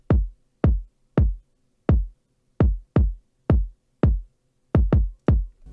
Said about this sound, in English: Then the drums on their own sound like this.